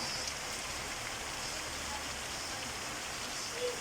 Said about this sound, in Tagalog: Umuulan po ngayon